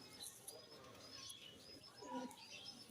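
Pigeons kept by a pigeon fancier coo faintly and briefly, with a few soft chirps over quiet background noise and no talk.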